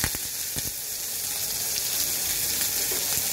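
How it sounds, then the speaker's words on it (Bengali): Sliced onion frying in hot oil with black cumin seeds and bay leaves, a loud, steady close sizzle with faint stirring clicks and no voices. "পেঁয়াজটা দিয়ে আমি খুব সুন্দর মতন ভেজে নেব।"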